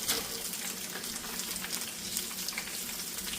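Breaded fish deep frying in hot oil in a pan, a steady dense crackle and hiss that holds even and close throughout, with no voices over it.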